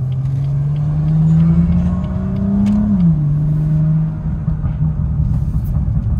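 A BMW 440i M Performance exhaust with its valves open gives a loud, steady droning rumble up close, its pitch rising slightly before dipping and then settling as the engine holds its revs.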